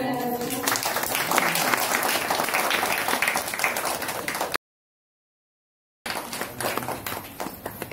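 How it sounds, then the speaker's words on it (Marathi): An audience claps loudly and steadily at a school golden jubilee felicitation ceremony in Mahan village. The applause is broken by a short silence, then resumes, with voices mixed in. "जोरदार टाळ्या वाजवा."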